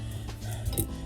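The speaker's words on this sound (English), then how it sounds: "That noise you hear back there is my little space heater." A small space heater hums steadily, a soft, even whir of fan noise with no voices.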